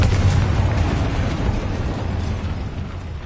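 Fiery Confringo spell blast in Hogwarts Legacy on PS5, a dense rumbling explosion with crackling debris that stays loud and broad throughout before easing slightly at the end.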